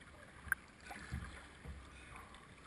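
Soft paddle strokes in lake water from a canoe or kayak, a few faint splashes and dips close by with a brief sharp knock early on, quiet and without speech.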